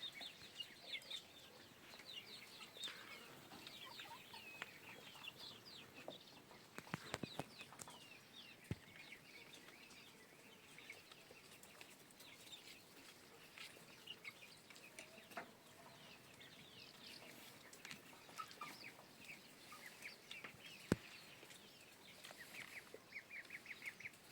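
Chickens cluck softly and intermittently in a quiet barnyard while drinking at a water trough, with occasional sharper calls, scratching and wing flaps scattered throughout.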